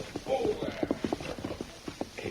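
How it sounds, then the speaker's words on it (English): A horse's hooves clip-clop at a walking pace, drawing nearer and then stopping outside, with a voice heard over the hoofbeats. "they heard a horse approach and stop outside"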